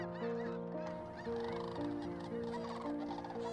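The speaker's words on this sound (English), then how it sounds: "Sandhill cranes are the oldest living bird species on the planet" Sandhill cranes in the Portland–Vancouver area call in overlapping rolling, trumpeting bugles, several birds answering one another steadily and fairly close, with no voices.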